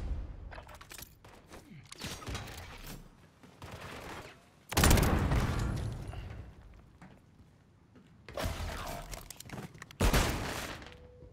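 Submachine gun fire in Call of Duty: Modern Warfare III skirmish mode, several sharp bursts of rapid shots with heavy impacts and booms spaced across the clip, some louder and closer than others.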